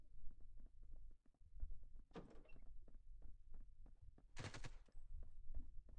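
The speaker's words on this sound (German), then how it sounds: "Auf was schießt du, Mann?" Gunfire in the survival shooter Rules of Survival: a steady stream of rapid, fairly quiet shots ticking away in the distance, broken by two louder bursts of blast and rattle.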